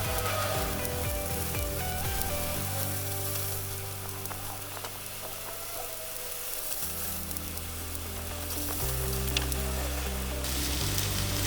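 Onions frying with Ras El Hanout in a cast iron tagine for a lamb shank dish, a continuous close sizzle with light stirring under steady low music-like tones.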